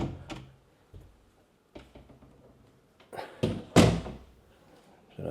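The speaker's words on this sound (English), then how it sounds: "We've got an adjoining door." An adjoining door in a Pattaya hotel room, The Whisper Hotel, gives a series of close wooden thunks and knocks, sparse at first and then a louder cluster of bangs near the end.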